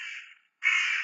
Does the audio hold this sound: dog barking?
no